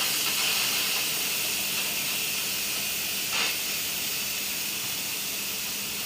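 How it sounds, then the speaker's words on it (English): A pressure cooker that has finished cooking chicken vents steam in a loud, steady, close hiss that continues unbroken for six seconds, with one brief swell partway through. "now the pressure cooker is finished cooking, so let's see, first I think we have to let off steam"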